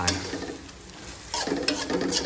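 Squid being stir-fried with roasted chili paste and a little sugar in a pan, with a steady soft sizzle and scraping stir strokes that grow louder and busier in the second half.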